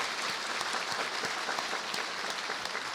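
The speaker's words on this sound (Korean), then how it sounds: "박수 한번 하십시다" A church congregation applauds during a 2018 Christmas celebration music service, a dense, steady wash of many hands clapping that fills the sanctuary at moderate volume with no voices.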